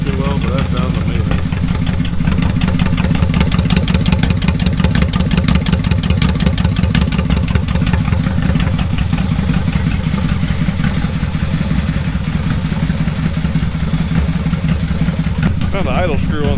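A new motorcycle engine idles loudly and close by, a steady continuous rumble with a fast even clatter that holds level throughout without revving up.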